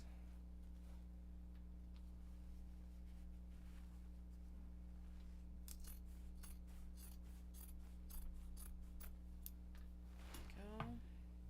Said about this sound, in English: Needs a bit of a trim down and a trim down in the actual seam allowance as well.